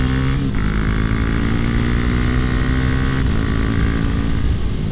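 A Husqvarna Svartpilen 701 motorcycle ridden hard through a set of corners. Its engine gives a loud, steady droning roar, close and continuous, mixed with rushing wind noise.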